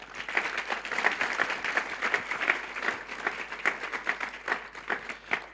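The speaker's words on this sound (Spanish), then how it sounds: "Denle un fuerte aplauso a Dios." A church congregation at a Spanish-language sermon claps loudly and continuously, a dense burst of applause with rhythmic pulses throughout.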